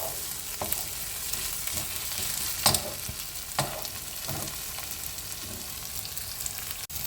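Water goes into spice paste that has been frying until oil separates, for a Bengali katla fish kalia; a steady pan sizzle runs throughout, punctuated by a few brief bursts of stirring and hissing.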